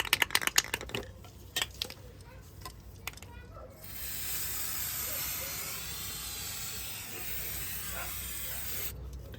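Brake cleaner sprayed onto the rear brakes of a VW Passat B6 gives a steady, loud hiss for several seconds, preceded by some clicks and clatter of handling.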